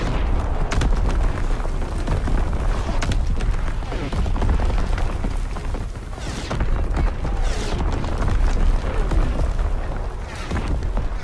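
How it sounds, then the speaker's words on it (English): Enemy artillery in Call of Duty WW2: continuous loud booming explosions and rumbling blasts pile up in a dense, chaotic wash of battle noise that lasts the whole stretch. "Incoming enemy artillery."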